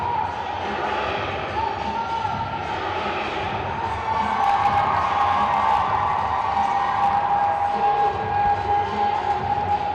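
A volleyball crowd in Racer Arena at Murray State keeps up steady cheering and hubbub through a tournament championship match against SIUE, with whoops rising partway through.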